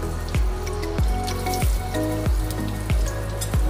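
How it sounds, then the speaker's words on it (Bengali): Garam masala and bay leaves tempering in hot oil and ghee, with a steady sizzle under a regular series of sharp ticks and pops from the pan. "ও গরম মশলা আর তেজপাতার ফোড়ন দিয়ে দিয়েছি।"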